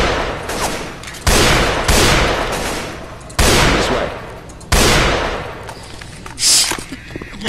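Sniper gunfire from the video game Left 4 Dead 2 rings out in four loud, sharp reports, each followed by a long ringing decay, spaced a second or more apart, with some faint game noise between shots.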